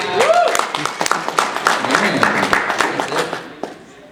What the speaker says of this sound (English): Is there like an applause sign behind me?